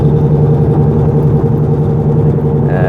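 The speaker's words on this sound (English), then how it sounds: "Hopefully you can still hear the car." A car engine, presumably a Mk6, hums steadily and loud while driving, heard from inside the cabin with no speech.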